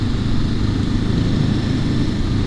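A Honda CL500 motorcycle's 500cc engine runs close by with a steady, buzzing low rumble and no clear rise in pitch.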